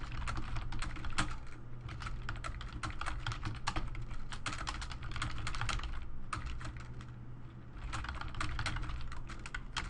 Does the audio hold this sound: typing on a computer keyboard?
yes